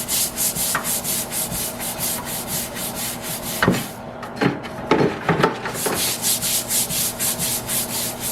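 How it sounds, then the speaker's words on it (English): Scotch-Brite pad scrubbing a wet aluminum cam cover, a rapid rhythmic back-and-forth rubbing, close and steady, pausing for a few seconds of slower, separate strokes before the fast scrubbing resumes. "Scotch-Brite it. I'm concentrating on getting some of those low points."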